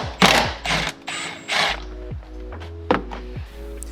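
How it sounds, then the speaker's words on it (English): Triple-square M10 socket on a ratchet wrench loosening seat bolts in a Volkswagen Atlas cabin: several short ratcheting bursts and clicks separated by brief pauses, close and moderately loud, with no talking. "first we're going to take these bolts out"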